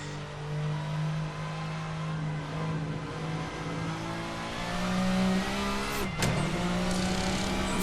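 A touring race car engine in Assetto Corsa holds a steady, droning pitch under throttle through a corner, with a brief sharp shift or squeal near the end before the drone carries on.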